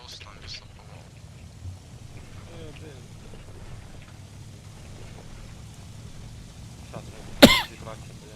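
Throat clearing and a short cough from a player during Arma Reforger gameplay, a sharp burst standing out near the end over a quiet background of soft game ambience.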